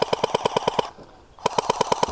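Rapid bursts of a BB or airsoft pistol, evenly spaced sharp cracks in quick succession, a short pause, then the rapid firing resumes, loud and close.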